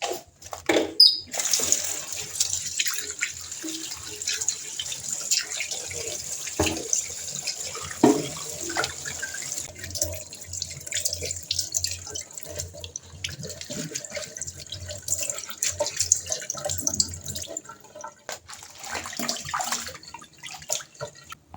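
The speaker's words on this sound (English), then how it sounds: "I'm just throwing this water off and just give them a rinse" Tap water runs and splashes as freshly harvested garden greens are rinsed in a sink, with uneven gushes, drips and handling noises close by over about twenty seconds.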